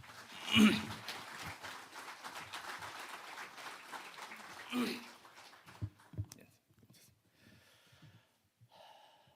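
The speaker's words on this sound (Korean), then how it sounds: "큰 박수 부탁드리겠습니다." Audience in a hall at a veterans' week commemoration ceremony giving polite applause, a soft, distant patter of many hands that fades out within a few seconds, with breathing and small noises near the microphone.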